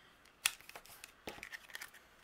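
Scissors snip through stiff cardstock in a few quick, close cuts, with one sharp crisp snip followed by a short series of softer clips.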